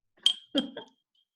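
A single bright, high-pitched clink of a spoon on a ceramic teacup full of honey, followed by a short vocal sound.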